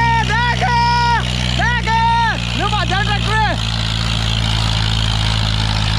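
A Veer Partap FE 1997-model tractor pulling an 8x8 harrow runs in first gear with a steady low engine drone, while nearby voices talk loudly over it.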